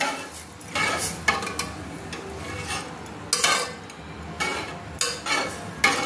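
Vermicelli simmering in milk in a pot is stirred with a utensil, giving soft, repeated scraping strokes against the metal in short bursts, with occasional clinks.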